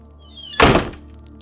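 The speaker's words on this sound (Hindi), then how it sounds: "दरवाजा जोर से बंद हो गया।" A door slams shut with a single heavy thunk in a Hindi horror story, a sharp loud impact after a quiet creaking lead-in, fading into a brief low decay.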